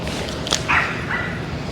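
A dog barks once or twice, short and fairly distant yelps against steady outdoor background noise at sunset in Sydney.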